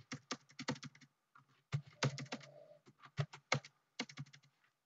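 Quick bursts of typing on a computer keyboard entering commands into a Cisco IOS command line, clustered keystrokes in several runs with short pauses, close and fairly quiet, no talking.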